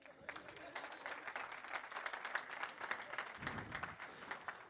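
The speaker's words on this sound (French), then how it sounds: "on l'applaudit, hein, Morgane ?" Audience applause at a conference on gender equality in sport, greeting women's rugby player Morgane Perronnet; steady clapping from a seated assembly sustained for several seconds, with a few voices mixed in.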